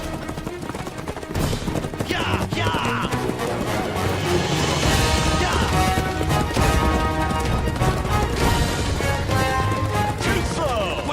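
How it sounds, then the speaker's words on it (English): Rapid hoofbeats of a fast horse in full gallop drive a steady, loud rhythm through a dense, busy mix, with a rider shouting excitedly over it during a race in a film about the warrior king Gesar. "That horse is fast!"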